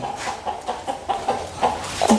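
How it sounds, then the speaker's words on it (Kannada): Chickens on an organic farm clucking in a rapid series of short, close calls, rising slightly in loudness toward the end. "ಕೋಳಿನ ಅದಾವ ಸರ್"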